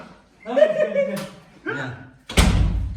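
A door slams shut with a single loud, close thud near the end, after a stretch of excited voices and a laugh.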